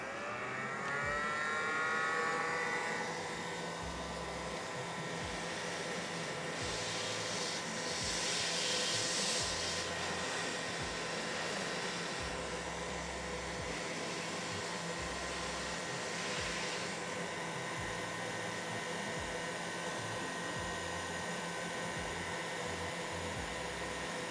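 Hot air gun with a small focusing nozzle blowing steadily while shaping a thermoplastic wrist and thumb splint, a continuous close whooshing roar that holds for the whole stretch.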